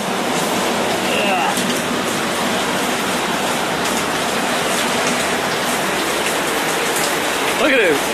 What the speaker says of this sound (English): It is absolutely stinking raining out here.